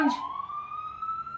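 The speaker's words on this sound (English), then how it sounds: "are those police sirens?" Police sirens sound in a residential neighborhood, a single rising wail that holds a steady tone, faint and distant.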